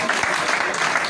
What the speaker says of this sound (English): let us also give a clap offering to the father of the bride and to the mother of the bride